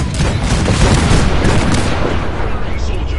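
Heavy, continuous booming cannon fire in Fallout 4 rumbles loudly and densely, shots overlapping into a dense roar with a faint voice mixed in.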